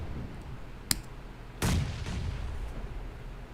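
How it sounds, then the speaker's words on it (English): Grenade explosions and gunfire in a PUBG Mobile match: a sharp single shot, then a heavier blast followed by a rumbling decay and scattered fainter shots in the distance. "The nades from 19E."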